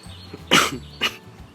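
Two short, sharp coughs from a person with COVID-19, about half a second apart, close by, with a quiet background and no talking.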